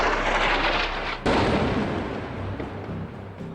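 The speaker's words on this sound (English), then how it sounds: "a video that is quite a rare instance where you see the bomb in mid-air when it's dropping" A bomb dropping over Rafah, heard as a loud, dense roar of rumbling noise that jumps into a heavier blast-like surge partway through, then keeps rumbling with distant thuds.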